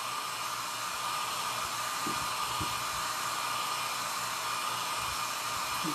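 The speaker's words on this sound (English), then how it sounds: "I'm just using a cool setting on a little travel hair dryer" A small travel hair dryer on its cool setting blows a steady, loud whooshing airflow close by, unbroken for the whole stretch, with a couple of faint soft knocks.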